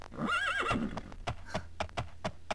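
A horse in the video game Daggerfall whinnies loudly at the start, then its hooves clip-clop in a steady run of distinct, close knocks while wading through water.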